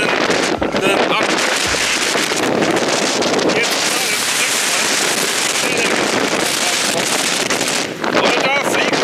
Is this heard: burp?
no